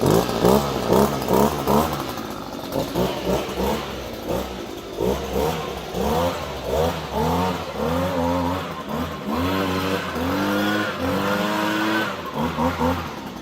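An Echo PB-250 leaf blower's small engine runs and warms up after a carburetor replacement, loud and close, its pitch rising and falling as it is revved repeatedly.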